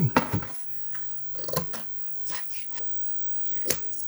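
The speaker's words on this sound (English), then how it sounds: "so I need to trim it square" Several crisp scissor snips through adhesive vinyl with crinkly plastic rustling in between, close up and fairly quiet, with pauses between cuts, trimming it square.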